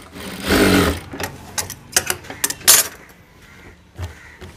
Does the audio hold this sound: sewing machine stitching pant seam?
yes